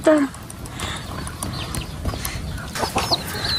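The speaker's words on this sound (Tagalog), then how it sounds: "Wow, may manok." A chicken clucking nearby in short bursts, with a few other outdoor sounds around it.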